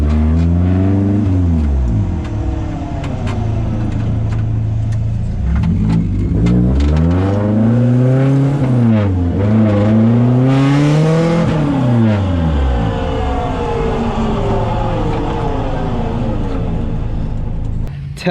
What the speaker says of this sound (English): the car's loud, the exhaust should be loud